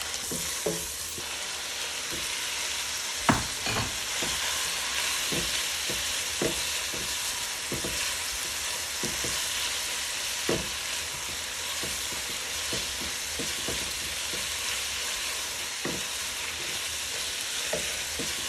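Spinach sautéing in a hot pan, a steady close sizzle and fry punctuated by scattered clicks and scrapes of stirring throughout, with no voices.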